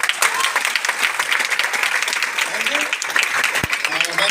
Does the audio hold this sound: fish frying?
no